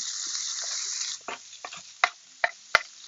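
Chopped medium yellow onion hitting hot vegetable oil, a loud close sizzle that fades into softer frying broken by a few sharp stirring clicks and pops.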